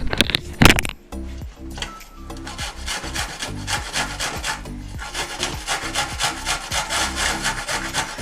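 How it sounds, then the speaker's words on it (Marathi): Gatte, also called alkul, being grated by hand for a vegetable dish in Goa, giving a steady rhythmic rasping scrape close up, with repeated strokes and no talk. "सर्वात पहिली मी इथे गट्टे किसून घेते आहे"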